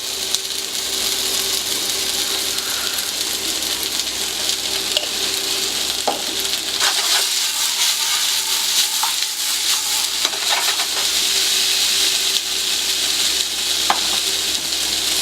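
Mustard seeds sizzling in a hot pan, a steady bright frying hiss with occasional small pops and crackles, close and continuous with no talking.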